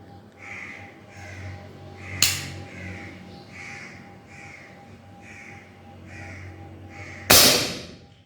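Two sharp, loud cracks from a Kral air rifle firing pellets at a red target outdoors, spaced several seconds apart, while crows caw repeatedly in the background.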